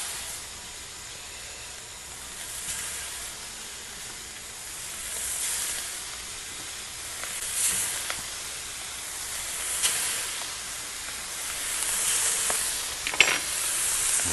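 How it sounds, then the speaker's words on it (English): Butter and vegetable oil sizzle on a Blackstone griddle with a steady, close hiss that rises and falls gently, with occasional spatula scrapes and no talking. "let's start by getting a little bit of oil down. Drop a couple of pats of butter. Spread that around a little as well."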